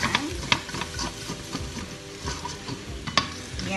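Egg and kway teow noodles being stir-fried in a pan with chicken, a spatula scraping and tossing with steady sizzling, sharp metallic clinks punctuating the frying at close range.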